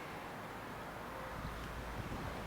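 Steady wind buffeting a microphone on open chalk downland along a walking path in East Sussex, a continuous broadband rush with no gaps.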